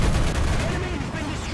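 Video game gunfire, a dense, loud burst of shots crackling continuously for a moment, close and heavy, with a voice partly mixed in underneath.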